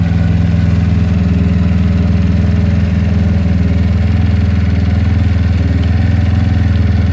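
A GY6 scooter engine with an OKO PWK 30mm carburetor and NCY decompression tube idles steadily and loud at close range, a continuous low throbbing putter with no speech.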